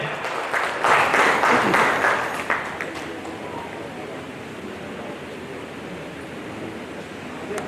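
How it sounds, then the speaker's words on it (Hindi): Loud applause from a ceremony audience honouring descendants of revolutionaries in Kanpur, a dense burst of clapping for the first few seconds that fades to a softer, steady crowd murmur. "जोरदार तालियों का स्वागत होना चाहिए"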